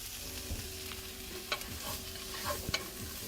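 Onions frying in a pan while being stirred for butternut squash soup: a soft, steady sizzle runs throughout, with a few brief scraping clicks from the utensil, all fairly quiet.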